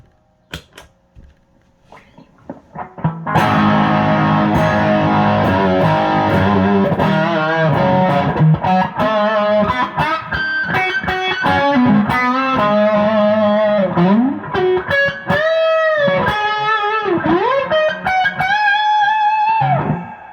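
A loud, distorted electric guitar, a PRS Studio with Seymour Duncan Custom Custom and 57/08 Narrowfield pickups, plays chunky chords and bending lead notes after a quiet opening, gritty and sustained throughout.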